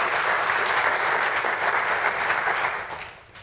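An audience claps together in a dense, steady round of applause at a climate change talk, holding full strength for about three seconds before tapering off at the end.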